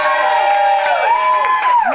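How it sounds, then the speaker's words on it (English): An audience at a talk cheers and whoops loudly for about two seconds, with excited voices rising and falling over a steady crowd roar and little distinct clapping. "give yourselves a round of applause"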